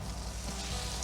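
French toast frying in a pan, a steady close sizzle of crackling, spitting fat that holds evenly throughout without any talk.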